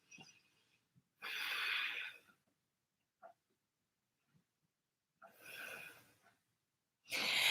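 Two deep, audible breaths are taken during a yoga twist stretch, each a long airy inhale-exhale separated by quiet pauses, close and fairly soft, with a third breath starting at the end.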